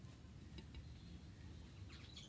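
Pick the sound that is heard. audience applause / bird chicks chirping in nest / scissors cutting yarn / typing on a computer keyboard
bird chicks chirping in nest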